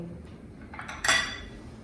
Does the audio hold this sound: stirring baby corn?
yes